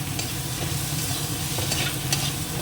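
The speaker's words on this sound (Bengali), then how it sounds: "এবার এই মশলার সঙ্গে চিংড়ি মাছটাও দিয়ে দেবো একবারে কষানো হয়ে যাবে" Prawns stir-fried in spice paste with cumin, a dense close sizzle with constant stirring scrapes and a few sharper clicks of the spatula against the pan.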